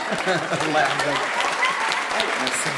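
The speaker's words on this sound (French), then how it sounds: "On peut l'applaudir." An audience at a gathering applauds to thank a helper, a moderate steady patter of clapping with voices talking and murmuring over it.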